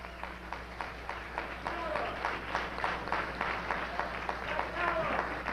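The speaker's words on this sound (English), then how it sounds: "let's give him a warm round of applause" A crowd applauds for Kwame Ture, dense clapping running steadily under a speaker's voice, fairly distant and moderately loud.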